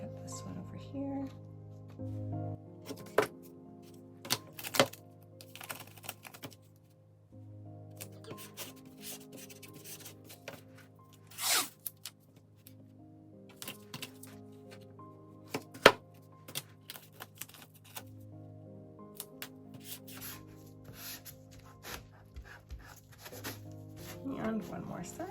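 Wide masking tape being cut while prepping a canvas for an acrylic Dutch pour, giving scattered short tearing and snipping bursts over soft handling noise and low background tones, close and fairly quiet.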